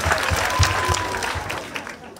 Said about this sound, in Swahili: Wapi makofi tupigie.